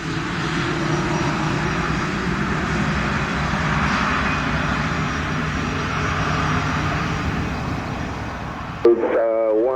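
A Delta airliner's jet engines roar in a steady, loud broadband drone after landing at Montego Bay, Jamaica, cutting out near the end as a brief radio voice comes in.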